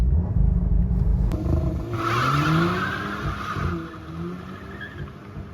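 VW GTI pulling away hard on launch control, its engine note rising through the revs with a brief tire squeal, loud at first and then easing off as it moves away.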